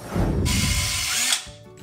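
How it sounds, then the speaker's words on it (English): A power drill drives a screw into a closet hook, a loud close whine that rises in pitch partway through, then cuts off abruptly and leaves a brief quiet tail. "Go ahead and put that second screw in, get it nice and snug"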